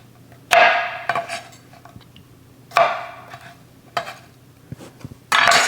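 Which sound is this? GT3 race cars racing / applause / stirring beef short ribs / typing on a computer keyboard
stirring beef short ribs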